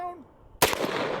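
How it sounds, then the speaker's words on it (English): A single massive 4 bore rifle shot rings out close and sharp as it strikes an Atlas stone, the blast decaying into a lingering rumble after a moment of quiet with a faint voice beforehand. "let's shoot the stone"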